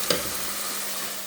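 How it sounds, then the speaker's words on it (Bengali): Broth is poured into a sizzling, fried-down curry in a pan. A sharp splash starts it, followed by a steady, close hiss of frying with no speech. "ঝোল দিয়ে দিতেছি।"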